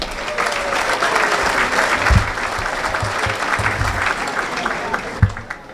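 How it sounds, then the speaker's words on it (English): An audience at a Westlake Hall of Fame ceremony applauds honorees, a steady wash of many hands clapping at moderate distance, with a few louder sharp claps standing out near the end. "Give them a round of applause."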